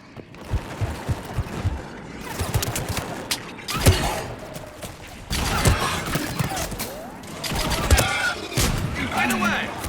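Gunfire in Mass Effect Legendary Edition, bursts of rapid shots and sharp cracks in uneven clusters, loud and close, mixed with mechanical clanks and other game noise.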